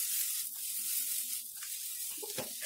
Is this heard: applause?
no